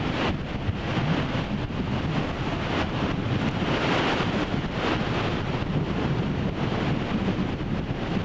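Steady wind blows outdoors at sunset beside a camera tripod, a loud, continuous rushing roar buffeting the microphone with no pauses throughout.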